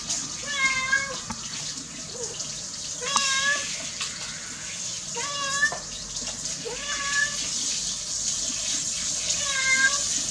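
A cat being bathed meows repeatedly, about five distinct complaining calls spaced a couple of seconds apart, over a steady rush of running tap water in a tub or sink.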